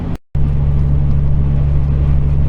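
A Ford Econoline van with a V10 engine climbing a mountain grade, its engine droning in a loud, steady low hum inside the cab after a brief cut at the start, with no talking.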